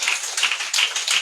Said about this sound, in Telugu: చప్పట్లు కొట్టి స్తోత్రం చెప్పండి.